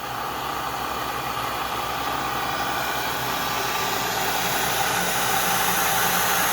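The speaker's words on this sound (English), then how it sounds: "So now he'll come down and machine the top of the nest completely perfectly flat." A milling machine planes the top of a wooden flute nest perfectly flat in a flute workshop, giving a steady, loud, broadband whir with a low motor hum that holds unchanged throughout, with no talking.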